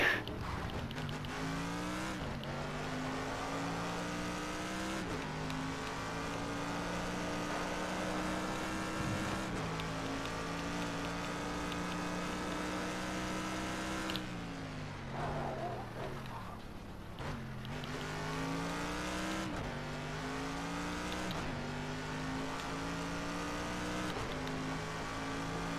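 Race cars in a video game roar around the track in a continuous engine drone with rising and falling pitch sweeps as they accelerate and shift, heard alongside background music, steady and fairly loud throughout.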